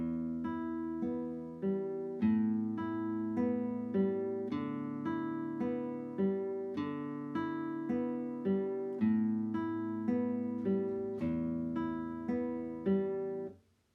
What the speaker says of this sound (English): So we'll start off with just an arpeggio on 4 different strings here.